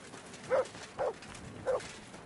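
Dog barking in the medieval role-playing game Kingdom Come Deliverance 2: three evenly spaced, mid-pitched barks, moderately close, over a quiet ambient background with no talk.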